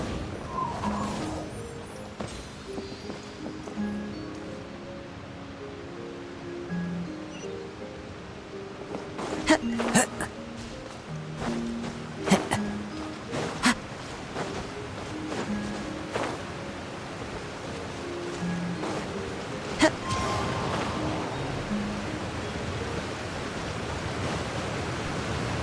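A powerful waterfall in the video game Genshin Impact gives a steady, dense roar of rushing water that runs throughout, overlaid with scattered sharp in-game effects and musical tones.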